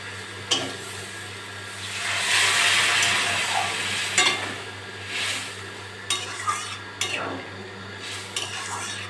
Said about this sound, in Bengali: রান্নাটা তাড়াতাড়ি করার জন্য আমি গরম জল দিয়ে দিচ্ছি।